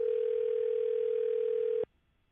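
An outgoing telephone call tone sounds as one steady, loud pure tone held for nearly two seconds, then cuts off abruptly into near silence.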